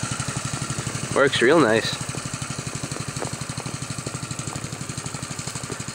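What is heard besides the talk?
homemade generator with Honda engine running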